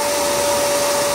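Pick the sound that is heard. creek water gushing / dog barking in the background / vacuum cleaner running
vacuum cleaner running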